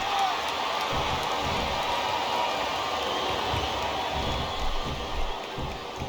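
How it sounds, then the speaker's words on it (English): A large wrestling arena crowd at a WWE Smackdown Hell in a Cell event roars and chants in a dense, continuous wash of noise, with rhythmic surges rising and falling throughout. "listen to that chant, Taz"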